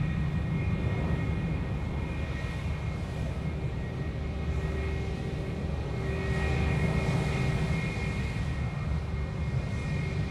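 Jetstar airliner taxiing close by on taxiway Charlie at Sydney Airport, a steady engine whine with sustained tonal hum over a low rumble, constant level throughout and no talk.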